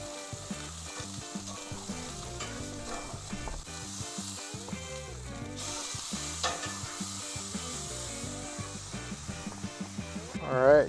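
A ribeye steak sizzles steadily on a Weber Spirit E-325 gas grill, a soft continuous crackle and hiss with faint scraping, fairly quiet and close, with no talk over it.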